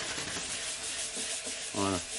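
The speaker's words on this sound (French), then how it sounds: "On ponce légèrement." A repaired car body panel is lightly hand-sanded with steady scraping strokes, close and fairly loud, and a brief voice cuts in near the end.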